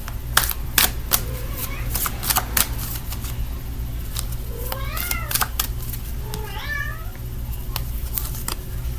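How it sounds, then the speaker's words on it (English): A domestic cat meows twice in short rising-falling calls over a low steady hum, with scattered sharp clicks and taps throughout. "Sorry, that's my cat, Penny, one of them."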